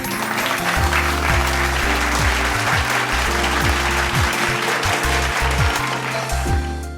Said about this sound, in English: let's give a round of applause to our Service Council Ministries